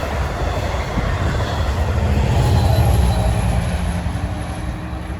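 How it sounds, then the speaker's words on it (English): A Long Island Rail Road passenger train bound from Patchogue to Jamaica rumbles steadily past close by at Rosedale, with wheels clattering and squealing on the rails over a constant low roar. "that was train 8763 from Patchogue to Jamaica"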